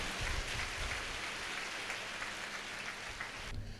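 Congregation applauding at a live prayer service, a dense, steady wash of clapping that holds for several seconds before thinning out near the end.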